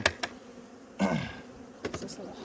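Honeybees buzz around an opened beehive during a hive inspection, a close, fluctuating drone with a few louder passes near the listener, under occasional handling noises.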